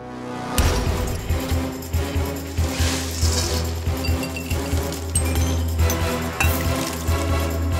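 A Belvedere vodka martini rattling in a cocktail shaker, ice clinking in a brisk, regular rhythm of loud shakes that start abruptly and continue for several seconds.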